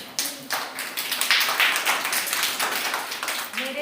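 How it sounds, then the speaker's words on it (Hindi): A standing group claps together at an anganwadi gathering, fairly close and loud, in rapid overlapping hand claps that swell mid-way and taper slightly, with no speech over them. "सब कोई खड़े हो जाइए, खड़े होकर ताली बजा दीजिए।"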